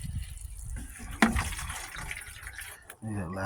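Water poured onto blueberry plants being mulched and fertilized, a short gushing splash that fades, with someone talking over it.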